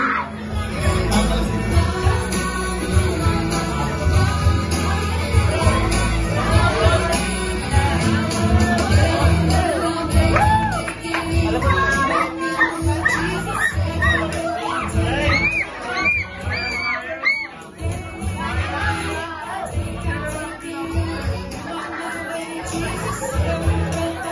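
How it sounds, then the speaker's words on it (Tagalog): A large crowd at a gender reveal shouts and cheers continuously, children's voices prominent in a loud, dense roar of chatter and yells. "Kailangan daw mas malakas daw yung sigaw natin."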